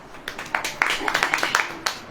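A congregation breaks into a burst of scattered, uneven claps that quickly swell and then thin out, with a voice heard alongside.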